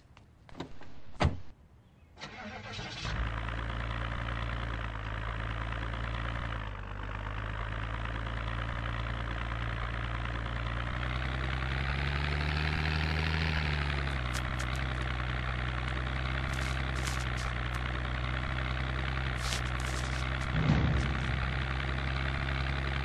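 Sedan car engine driving off-road in the video game Project Zomboid: a steady, loud engine drone runs continuously after a brief door-like clunk at the start, rising slightly midway, with no talk.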